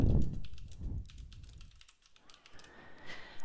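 Quick clicks from a computer keyboard as HTML code is typed into a web page editor, a fairly faint and irregular patter of keystrokes with a brief pause near the middle.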